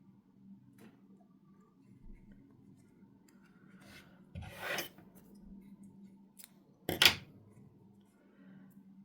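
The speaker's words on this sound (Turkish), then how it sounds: "ipi burada keselim" Scissors snip crochet yarn during a handmade square-motif chicken keychain project, with a soft rustle, a brief scraping cut midway and one sharp, louder snip near the end, close and alone against a low steady hum.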